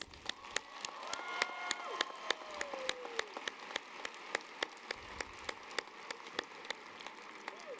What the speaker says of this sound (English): Let's give a clap to all the parents.